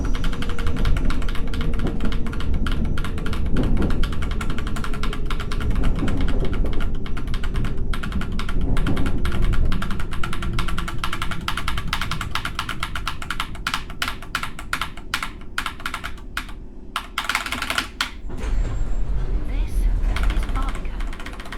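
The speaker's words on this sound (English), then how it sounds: "Yeah, the keyboard is that loud. It's, by the way, a Corsair keyboard" Rapid, loud clacking keystrokes on a Corsair computer keyboard run continuously for about twenty seconds over a steady background hum, with bursts of faster typing near the end.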